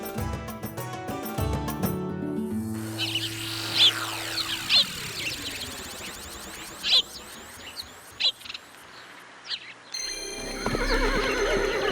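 A horse in an animated Hindi story whinnies loudly, followed by steady clip-clopping hooves, with music playing before and after.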